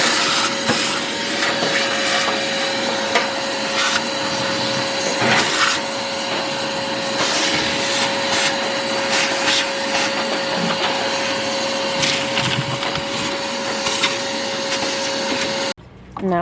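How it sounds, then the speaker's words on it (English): A vacuum cleaner sucks pellet dust out of the inside of a pellet grill, a loud steady whine with a constant tone and scraping rattles as the nozzle moves, running for the whole stretch before briefly cutting off near the end. "So we're just gonna vacuum that out."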